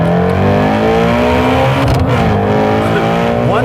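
A Ford Mustang Shelby GT350 with a flat-plane crank V8 revs hard in first gear, its loud, close, rasping roar holding steady, then climbing sharply in pitch at the end.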